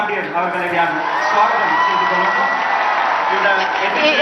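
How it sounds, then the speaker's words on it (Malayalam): A large crowd at a closing ceremony claps steadily in sustained applause, a dense continuous patter with scattered cheers and voices blended into it. "ഇപ്പൊ ഒരു കയ്യടി കേട്ടിട്ടുണ്ടാവുമല്ലോ"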